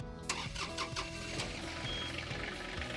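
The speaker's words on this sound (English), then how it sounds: "So why don't you go ahead and fire up the tractor." A John Deere tractor engine cranks with a few quick rhythmic turns, catches, and settles into a steady mid-pitched running rumble, close by.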